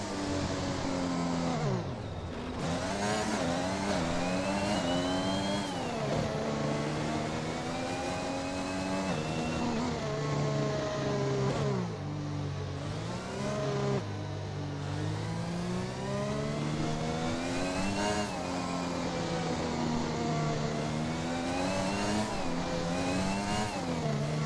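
Several F1 race cars drone behind a safety car in a racing video game at Saudi Arabia, layered engine whines rising and falling steadily and loud throughout, with no talk.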